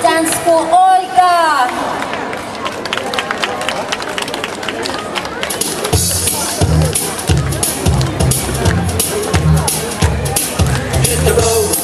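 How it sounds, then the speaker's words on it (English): Audience applause for a sport dance school troupe doing the jive, brief crowd noise blending with a strong rhythmic music beat and shuffling feet, fairly loud and continuous. "another round of applause for dance school Olga"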